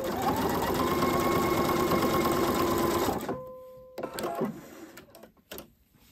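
A sewing machine runs long stitches in heavy Gütermann denim thread, a fast, steady mechanical whirr and rattle close up for about three seconds, then stopping, followed by a few light handling clicks and thumps.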